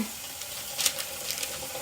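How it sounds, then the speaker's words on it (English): Water runs into a pot while peanut brittle is made, a soft steady splashing hiss, close and moderately quiet, with a few brief louder gurgles. "Get water in that pot right away"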